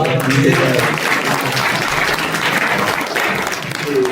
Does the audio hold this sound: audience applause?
yes